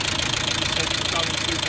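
A military reconditioned 300Tdi diesel engine in a Land Rover Defender 90 Wolf runs at a steady idle, a continuous close rumble with a faint regular knock and no talk over it.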